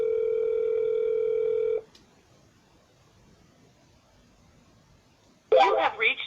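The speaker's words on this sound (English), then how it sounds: "At the tone, please record your message." A voicemail system plays a steady electronic recording tone for nearly two seconds, then the line falls to near silence before a voice briefly speaks.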